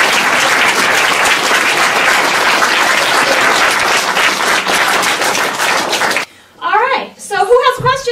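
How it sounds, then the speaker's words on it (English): An audience at a talk with actor Jerry Mathers gives a loud, sustained round of applause with dense clapping for about six seconds before it stops abruptly and a voice speaks. "I'd like to hear a round of applause for Jerry."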